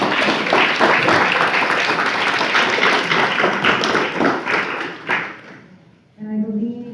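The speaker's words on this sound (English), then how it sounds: "Let's give them a nice round of applause" An audience at a school board meeting applauds students, a dense round of clapping that swells and carries on for about five seconds, then fades out into a brief pause before a voice begins speaking.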